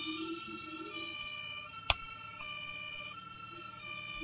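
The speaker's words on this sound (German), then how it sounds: "Machen wir mal Sirene an." An ambulance siren in the video game Brick Rigs wails steadily at a distance, its tones layered and sustained, with a single sharp click cutting through partway.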